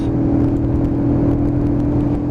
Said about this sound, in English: So second gear pull away, just winding up the power.